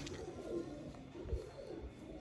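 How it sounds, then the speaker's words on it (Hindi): Sialkoti Sheikhon wale pigeons coo softly in low rolling phrases, faint and close, with a dull thump partway through. "सियालकोटी दोस्तों, शेखों वाले कबूतर।"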